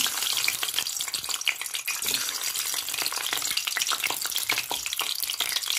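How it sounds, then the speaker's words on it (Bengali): Eggs fry in mustard oil in a wok with a loud, dense, continuous crackling sizzle full of rapid spattering pops, close by and with no voices. "ডিমগুলো একটু ভেজে নেবো, সেই জন্য ডিমগুলো দিয়ে দেবো পরিমাণ মতো।"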